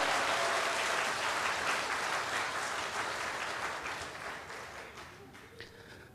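A church congregation gives a sustained round of applause at a Parents' Day service, loud and dense at first, then thinning toward the end with a few scattered claps.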